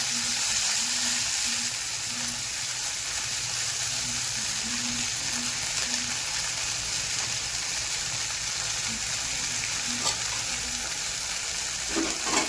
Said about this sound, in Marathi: तेलामध्ये टाकून घेतले शेपूची भाजी.